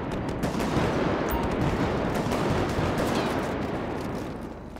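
Heavy gunfire in a multiplayer roleplay video game, a constant, loud stream of rapid overlapping shots that thins slightly near the end, with no talk over it.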